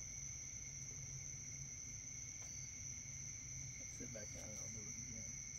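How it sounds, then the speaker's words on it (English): Steady high-pitched cricket chirping fills a quiet outdoor night near Flathead Creek, continuous and fairly distant, with brief faint rustles and murmurs late in the clip. "Listen to all the crickets and everything out here."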